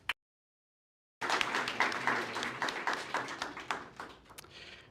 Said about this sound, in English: a big round of applause for each and every one of us